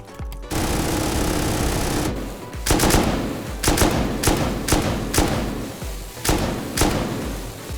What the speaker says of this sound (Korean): 자, 이제는 폭발탄으로 해볼게요.